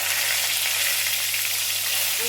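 Curry leaves and ground spice powder sizzle in hot oil at a steady, moderate level, with a soft continuous crackle and no voices.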